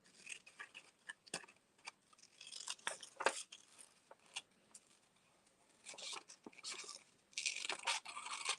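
Scissors snip through a paper card shape, giving close, crisp cuts in irregular bursts, with short single snips and longer runs of rapid cutting separated by brief pauses.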